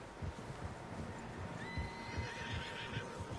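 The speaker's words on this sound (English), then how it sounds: "Horses, quite a few of them." Horses in the Red Dead Redemption 2 video game, a high neigh rising over a steady low rumble of hooves and ambient outdoor sound, fairly faint in the mix.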